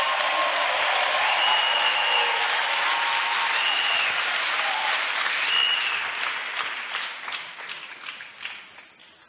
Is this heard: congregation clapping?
yes